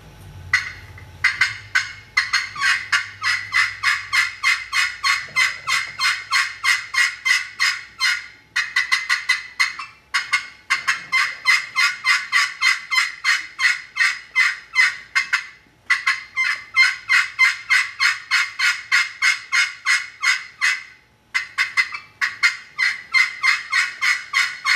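Friction turkey call worked at a calling contest to imitate an excited hen's yelp: long, loud, rapid runs of sharp, evenly spaced yelps, broken by brief pauses, close and alone.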